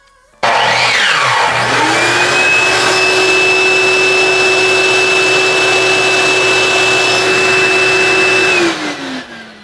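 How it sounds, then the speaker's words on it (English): A shop vacuum hooked to a miter saw through an Ortis auto vacuum relay switch kicks on abruptly, runs with a loud steady whine and roar alongside the saw motor, then powers down and winds off. "once I flip that on, then it's going to automatically kick on the vacuum"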